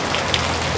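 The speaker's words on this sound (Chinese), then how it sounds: "咁大雨嘅嚇" Heavy rain falls steadily as a dense, even hiss of drops striking surfaces, continuous and close throughout with no voices.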